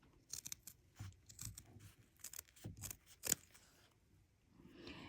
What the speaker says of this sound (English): So we're just trimming the corners, maybe to about 1/4 of an inch.